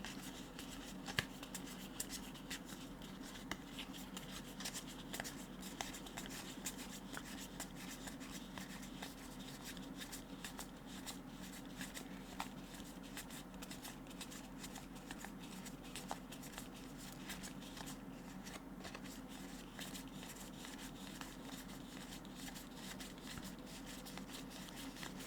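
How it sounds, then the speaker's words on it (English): Yu-Gi-Oh! trading cards being flipped through and shuffled by hand, a soft, steady stream of quiet papery ticks and rubbing clicks at close range, with no talking. "It also gives you that really nice shuffling sound."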